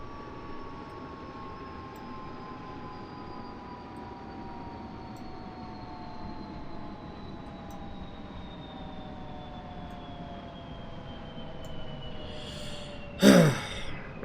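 In the DCS flight simulator, an aircraft engine spools down: a steady whine glides slowly lower in pitch over a constant rumble, ending in a brief sharp burst, with no voices.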